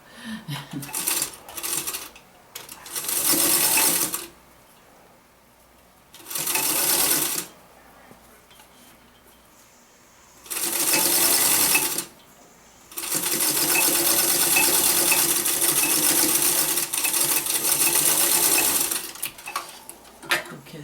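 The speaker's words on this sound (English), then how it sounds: "I'm sewing the zipper to this pocket piece right now. It's a 7-inch zipper." A sewing machine stitches a gray 7-inch zipper onto a bag pocket piece, running in several separate bursts of steady whirring with quiet pauses between them, the last run long and unbroken.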